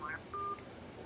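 Motorola Droid Razr M dial pad tones sound during a call: a couple of short, faint electronic beeps, one held a little longer, over a quiet background hiss.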